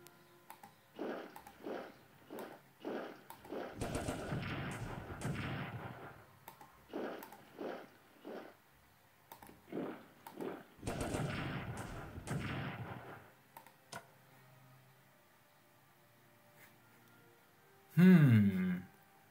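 Attack gunfire in the World War One strategy game Strategic Command, heard as repeated booming artillery and rifle volleys in clustered bursts, moderately loud, ending with a brief louder rising effect.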